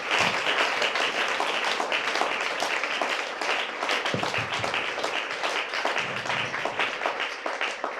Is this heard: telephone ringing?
no